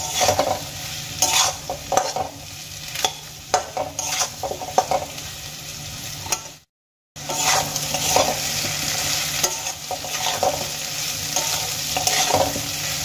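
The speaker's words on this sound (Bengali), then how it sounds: "আদা আমি খুব ভালো করে আলু আর সয়াবিনের সাথে ভেজে নেব" Ginger frying in oil with potatoes and soybeans, stirred vigorously with a metal spatula: loud close sizzling and rhythmic scrapes and clinks against the pan, cut by a brief silent gap midway.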